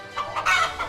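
A hen clucks in a short run of close, clear calls on a farm, with no talking.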